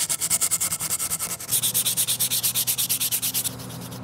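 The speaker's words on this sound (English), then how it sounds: "Just a little more sanding." Rhythmic back-and-forth sanding of cured filler on a giant Lego sword and shield prop, steady rasping strokes close up, about a dozen even passes that quicken slightly before settling into a smoother continuous rub.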